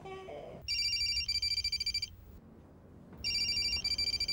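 A mobile phone rings in two bursts of bright, repeating electronic tones separated by a short gap, loud and close over a quiet room.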